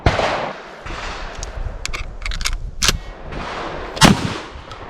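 Shotgun blasts of tactical buckshot from a Beretta 1301 Tactical LE or IWI Tavor TS-12 fired at 7 yards on a range, several sharp loud reports in quick succession followed by a separate later shot, with no talking.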